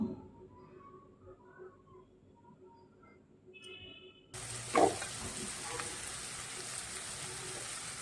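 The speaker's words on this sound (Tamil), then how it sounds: "நல்ல பொன்னிறமாட்டு வதக்கணும்." A quiet stretch gives way to a steady, hissing sizzle of onions sautéing in oil for tomato chutney, continuous and fairly close.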